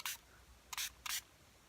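Three quick, close bursts of fine water mist from a small eyeglass-cleaner spray bottle aimed onto hair, each a short soft hiss separated by brief pauses.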